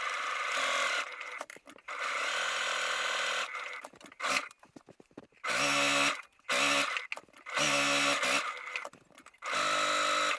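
A sewing machine runs in repeated bursts, basting sew-in foam onto the exterior fabric of a labelled storage pouch, with a long stitch length and an eighth-inch seam allowance. The motor whirs close and loud in several start-stop runs, with short pauses between them.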